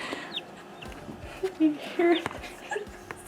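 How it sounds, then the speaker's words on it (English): On a small Canadian homestead, hens cluck in short bursts around a newly hatched chick, soft peeps mixed in, while people talk excitedly nearby. "We made a baby chicken!"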